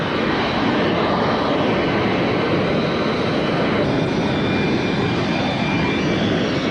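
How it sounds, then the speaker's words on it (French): Steady broadband roar of a Liberian head of state's presidential command airplane, its jet engines running loud and continuous throughout with no voices. "l'avion de commandement du chef de l'État libérien"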